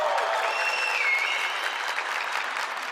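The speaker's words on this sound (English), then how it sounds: "Crowd is very happy to see you back." Crowd applause at a live Dota 2 esports event, a dense steady clapping roar with scattered cheers and whistles that holds strong for three seconds, fading only slightly toward the end.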